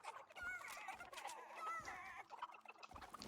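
Several chickens in the video game Fortnite cluck and squawk in quick, overlapping bursts, fairly close and lively, with no speech.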